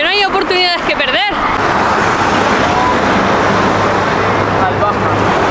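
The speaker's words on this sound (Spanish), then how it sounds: "Hay bastante tráfico, por suerte." Highway traffic in Saudi Arabia rushes past in a loud, continuous roar of tyres and engines, with a voice speaking briefly at the start before the road noise dominates.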